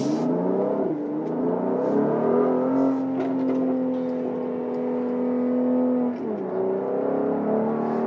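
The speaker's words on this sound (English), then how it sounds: "I'm just basically flirting with the gas pedal here just so you can hear everything it can do." A Mercedes-AMG GLC43 engine revs under acceleration on a morning commute, a loud steady drone with rising pitch and a brief dip around a gear change before climbing again.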